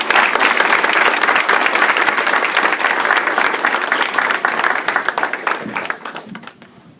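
An audience gives sustained applause at a military band change of command ceremony, dense clapping from a crowd that holds strong and then fades out over the last second or two.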